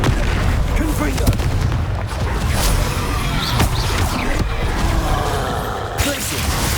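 Confringo fire spell cast in Hogwarts Legacy, a dense, loud burst of booming blasts and crackling impacts layered over continuous game noise and a voice calling spell names.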